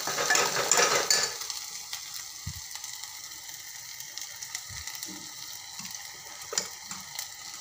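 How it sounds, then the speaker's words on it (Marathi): Turmeric and coriander powder sauté in a hot pan with a loud sizzle that quickly dies down to a softer hiss, broken by scattered scrapes and taps of a stirring spoon, with no talk. "त्याला छान असं एकजीव होईपर्यंत मस्त परतून घेणार आहे।"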